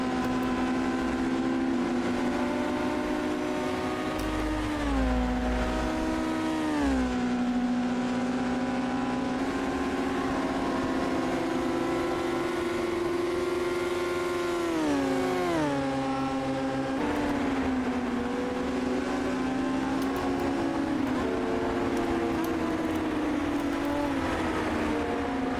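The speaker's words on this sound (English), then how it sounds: "The sound of engines." Loud, continuous engine roar with rising and falling pitch as gears shift, heard up close from inside a historic Formula 3 racing car at speed on the Österreichring circuit in Austria.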